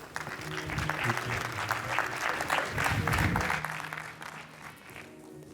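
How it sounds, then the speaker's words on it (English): A conference audience claps to welcome a panel moderator to the stage, steady, full applause rising and holding for several seconds, then thinning out near the end. "A round of applause, please."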